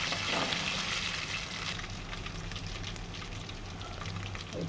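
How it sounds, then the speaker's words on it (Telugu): Ginger paste being stirred and fried in a pan for egg curry, a steady close sizzle with faint scraping as it is mixed, alone without talk. "ఇప్పుడైతే అల్లం పేస్ట్ మిక్స్ చేస్తా ఉన్నా."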